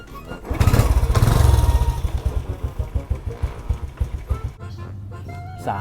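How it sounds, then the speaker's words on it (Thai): A motorcycle engine starts with a loud rev, then settles into a steady chugging idle close by, briefly cutting to a quieter rumble at the end. "สตาร์ทเครื่องยนต์"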